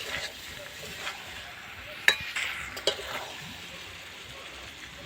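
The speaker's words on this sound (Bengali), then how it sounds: "সবজিগুলো মশলার সাথে ভালো করে কষিয়ে নেব।" Mixed vegetables with peas are stir-fried with spices in a pan, with a quiet background sizzle broken by a few sharp spatula scrapes and clinks against the metal.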